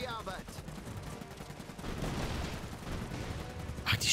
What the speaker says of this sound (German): Die schießen die komplette Bude einfach kaputt.